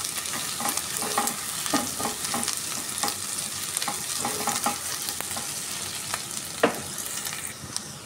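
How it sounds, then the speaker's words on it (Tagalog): Garlic, ginger and onion frying in a pan while being stirred, with a steady close sizzle broken by repeated scrapes and clacks of the spatula, and no talking. "Ilalagay natin yung ating garlic, ginger. So, haluin natin ito guys hanggat sa maging light brown ang ating sibuyas."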